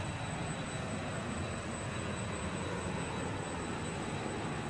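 Learjet 35 engines drone in a loud, steady roar with a sweeping flanged, whooshing character and a thin high whine on top, continuous throughout in a flight simulator game.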